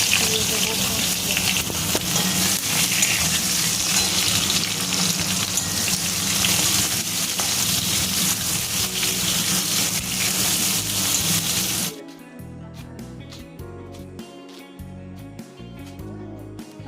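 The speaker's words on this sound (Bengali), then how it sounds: "আলু লম্বা লম্বা করে কেটে রেখেছিলাম, আলু এখন দিয়ে দেবো ভাজতে।" Long-cut potato sticks fry in hot oil with a loud, dense, continuous crackling sizzle that suddenly drops to a much quieter bubbling near the end.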